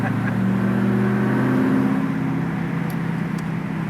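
A 2002 Pontiac Trans Am WS6 cruising along, its V8 engine giving a steady, close drone with a faint rise in pitch midway, heard from inside the car.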